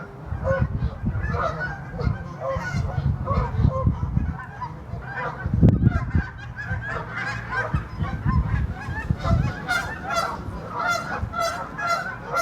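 A flock of geese at a pond honking continuously, many overlapping calls close by, with a louder burst partway through and a steady din throughout.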